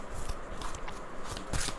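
Tarot cards are shuffled close by. Quick papery riffles and flicks run in short bursts for about two seconds.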